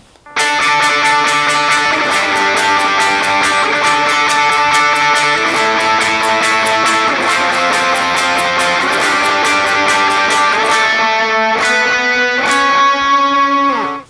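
An electric guitar plays a bright, sustained chorus part of a song with ringing layered notes, loud and continuous, ending on a few held chords.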